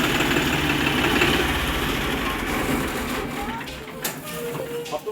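A tractor engine runs steadily and loudly close by for the whole stretch, a rumbling idle-like drone with some knocking texture, while a few voices talk over it.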